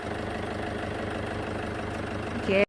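The engine of a Toyota Commuter van with a 2.5 diesel, fitted with a round filter and cleared of black smoke, drones steadily during a test drive, a continuous, close rumble that swells briefly and then cuts off abruptly.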